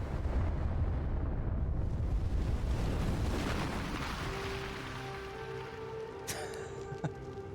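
A huge explosion as Ares is destroyed in God of War (2005), a loud roaring blast that rumbles and slowly decays into a fading crackling tail, followed by faint musical tones.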